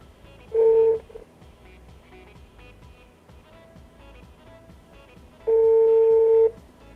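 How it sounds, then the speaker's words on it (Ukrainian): Phone call tones heard through a ZEALOT S5 Bluetooth speaker with headset function: two steady ringback beeps, each about a second long and several seconds apart, over a faint background hiss. "А ну-ка, зараз спробуємо позвонити"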